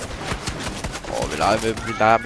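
A quick burst of video game gunfire crackles in rapid shots, fairly loud, while someone talks excitedly over it.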